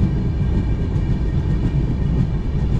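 A Darjeeling Mail passenger train runs with a steady, loud low rumble and rail clatter throughout, close and continuous, with no voices.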